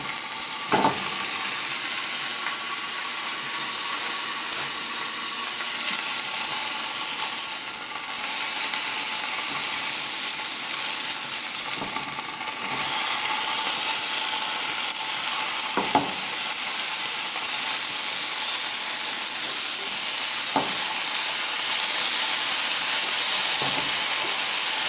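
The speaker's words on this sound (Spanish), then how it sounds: "ahorita ya voy a poner el tocino" Bacon sizzles and spits in a hot pan with a steady, loud hiss throughout, broken by a few sharp pops and occasional stirring scrapes.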